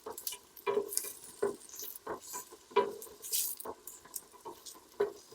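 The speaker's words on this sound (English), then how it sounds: "105 grams of garlic going in. Go, garlic, go. Give that a stir." Garlic, 105 grams of it, sizzles in a pan for a marinara sauce while a utensil stirs it in repeated scraping strokes over a steady frying hiss, near and moderately loud.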